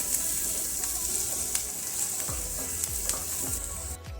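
Onions frying in a pan with ginger and garlic for paneer bhurji, a steady close bright sizzle with occasional soft stirring scrapes and no speech.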